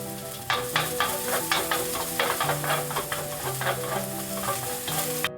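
Scallion whites and green chilies frying in a pan for fried rice: a loud, even sizzle with rapid stirring scrapes and a low hum underneath, no talking.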